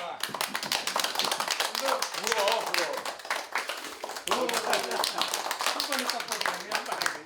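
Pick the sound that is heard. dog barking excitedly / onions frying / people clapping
people clapping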